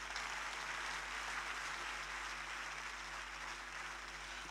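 Steady, faint, distant applause from a church congregation during an evangelical service, a continuous wash of clapping with no talk over it.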